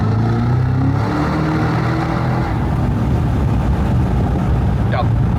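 A Cadillac CT5-V Blackwing V8 revs hard inside a tunnel, its tone climbing and then swelling into a booming, echoing roar that fills the space loudly.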